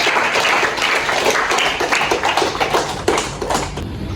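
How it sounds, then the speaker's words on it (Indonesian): A classroom of students gives a short round of clapping, a brisk, uneven patter of hands close by that keeps going for a few seconds and loosens toward the end. "kita beri tepuk tangan dulu untuk pertanyaannya"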